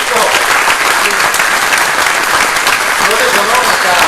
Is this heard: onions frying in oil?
no